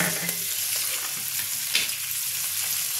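Coconut milk poured into a pan of lightly fried hilsa fish, giving a steady, close, even sizzle with faint stirring and scraping, no talk.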